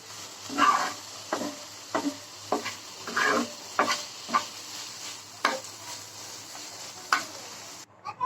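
Bitter gourd, added after potatoes, fries in a pan with a soft sizzle and a steady series of scraping stirs about every half second, fairly close, with no voices.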